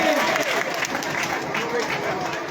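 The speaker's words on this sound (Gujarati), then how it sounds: "જોરદાર તાળી મારી છે।" Audience clapping at a community gathering, a dense burst of hand claps that carries steadily for a few seconds close by.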